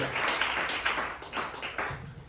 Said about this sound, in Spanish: Dele fuerte palmas a nuestro Señor Jesucristo en esta noche